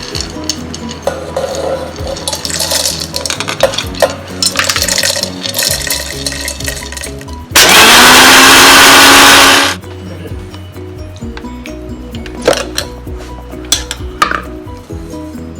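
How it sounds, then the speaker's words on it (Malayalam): A kitchen mixer grinder whirs loud and steady for about two seconds as it grinds roasted peanuts for homemade Nutella, with the motor spinning up then stopping; clinking pans and utensil scrapes come before and after. "ഇനി നമുക്ക് ഒരു മിക്സിയുടെ കപ്പിലിട്ടിട്ട് നന്നായിട്ട് പൊടിച്ചെടുക്കണം"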